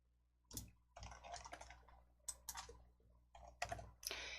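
Keys clack on a computer keyboard in scattered quick presses and short clusters, close and fairly quiet, with no voices.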